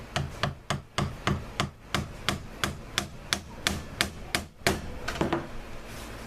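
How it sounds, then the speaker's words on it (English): Steady hammer blows on a chisel punching stitch holes through leather, about a dozen sharp close strikes in an even rhythm, each a crisp knock with a short ring, no talk. "the chisel goes through just far enough to make a proper stitch hole in there"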